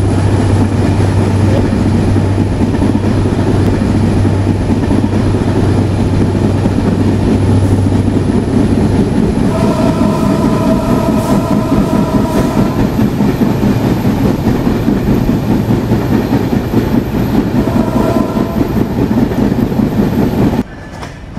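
On board the Kapotaksha Express passing through Fultala station in Khulna, a continuous loud rail rumble with wheel clatter, a brief higher metallic squeal midway and a drop near the end, with no voices.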